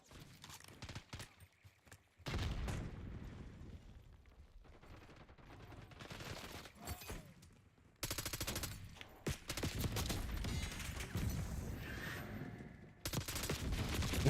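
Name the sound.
gunfire during a gunfight in a video game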